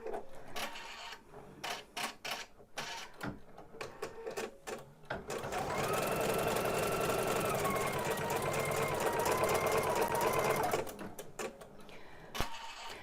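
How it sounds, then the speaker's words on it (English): An embroidery machine stitches out a crazy quilt block, a steady loud mechanical whir with a rapid needle rhythm running for several seconds, preceded and followed by quieter intermittent clicks and handling noise. "Let's do the next stitch out, which I think is just going to secure the last piece of fabric that we put on."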